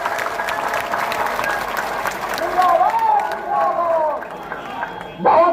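An audience at a teachers' gathering claps steadily to welcome two senior colleagues, the applause swelling as a voice speaks over it near the end.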